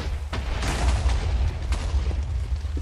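TNT exploding in Minecraft survival mode, heard as a dense, continuous rumbling boom with scattered bursts and pops, loud and sustained throughout with no talk.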